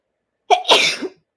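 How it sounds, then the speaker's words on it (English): A single sharp sneeze, close and loud, with a quick intake then an explosive burst that trails off in under a second. "I'm going to sneeze."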